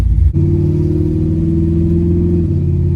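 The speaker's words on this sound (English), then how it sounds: "All right, we got the Camaro out on the road. Let's see if we can hit all the gears for a test drive." Chevrolet Camaro on a road test drive, its engine holding a loud, close, steady rumbling drone after a brief dip, as from inside the car, with no talk.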